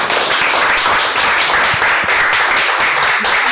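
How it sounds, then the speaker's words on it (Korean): Applause from a lecture audience thanking a guest speaker at a forum talk on feminism, a dense steady wash of many hands clapping throughout, close and fairly loud with no pause. "그 훌륭한 강연 진행해 주신 오세라비 선생님 다시 한번 큰 박수 부탁드리겠습니다"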